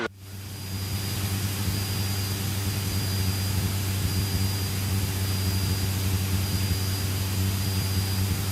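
A large airplane's engines roar steadily and loudly overhead, a constant deep drone with a low hum that holds at full strength throughout, with no voices.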